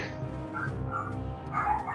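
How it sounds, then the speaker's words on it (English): A dog barks and yips faintly in the background behind a tabletop role-playing game session, giving a few short, scattered barks over a low, steady room rumble. "Puff Puff is barking"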